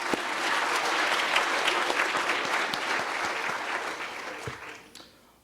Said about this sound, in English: Let's give a round of applause for those companies.